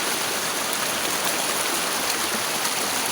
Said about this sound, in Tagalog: Ang bibidyoan ang sapa